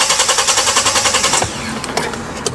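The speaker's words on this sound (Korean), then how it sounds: "네, 시동도 이제 아예 걸리지 않습니다." A 2020 Kia Bongo 3 engine with a fuel-line fault cranking without starting, a fast rhythmic starter chug for about a second and a half, then stopping into a quiet hiss with a few clicks.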